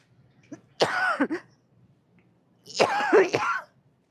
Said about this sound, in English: Why do I have to come in here and have a fucking coughing attack?